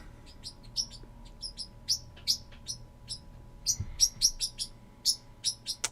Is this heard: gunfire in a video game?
no